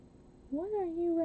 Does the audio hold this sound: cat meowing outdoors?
yes